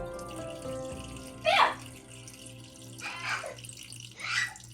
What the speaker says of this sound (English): we drain the water on the top. Just slowly, don't stir the bottom starch